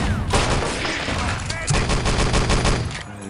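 Gunfire crossfire raining down on a courtyard in Wolfenstein: Enemy Territory on the Electra map, loud rapid overlapping rifle and machine-gun bursts crackling almost without pause, with brief voice chatter in the mix.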